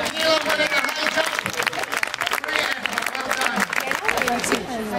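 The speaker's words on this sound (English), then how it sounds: "Can I have a round of applause for Michaela winning the high jump?" Outdoor crowd applauds a girl's high jump win at a school sports day, a steady spread of claps with cheering voices and chatter running throughout.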